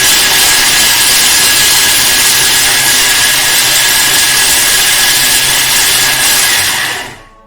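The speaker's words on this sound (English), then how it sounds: "So, next up it is 8 seconds on speed 9. So up to speed 9, we spin it really fast all the way up." A Thermomix blitzes salad ingredients at speed 9, giving a loud, steady, high-pitched whirring roar that holds evenly for about seven seconds and then winds down quickly to near silence.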